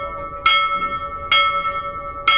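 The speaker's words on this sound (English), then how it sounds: "Now we will perform the ceremonial ringing of the bell while waking up the gods." A ship's bell is struck three times at a steady, unhurried pace during a boat renaming ceremony, each clear metallic strike ringing on with a sustained tone.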